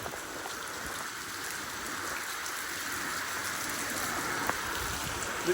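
Heavy monsoon rain pours down steadily, a dense continuous hiss of drops hitting surfaces with no pause, loud and even throughout with no one talking.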